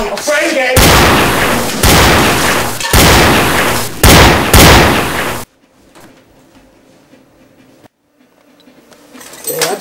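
Gunfire blasts out in a rapid run of about five loud, heavy bursts, then cuts to a hushed background with faint rustling and noise.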